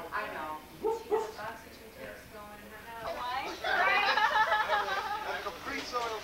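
Several dogs yipping, whimpering and barking in short bursts, fairly close, mixed with people chatting.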